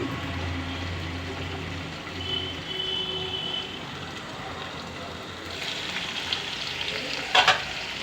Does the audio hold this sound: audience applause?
no